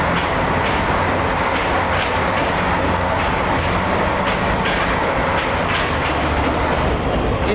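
A long-distance train in Myanmar rolls away from a stop, a loud, steady rumble of wheels on rails with rhythmic clickety-clack and faint squeal, unbroken throughout.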